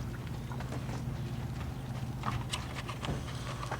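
Hooves clip-clop on firm ground in an irregular, shuffling rhythm as a mare steps away, moderately close, with steady low background noise and no talk.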